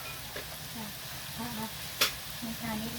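Beef with holy basil stir-frying in a hot pan, a steady sizzle with a sharp scrape or clank of the spatula partway through and a voice speaking over it.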